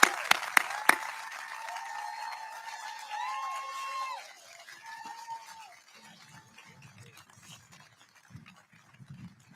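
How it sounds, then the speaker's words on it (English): Audience applause at a military change of command ceremony at West Point, a few sharp claps leading into a brief round of clapping that quickly fades, with faint background sounds afterward. "please join me in a round of applause for Colonel Evangeline Rosel"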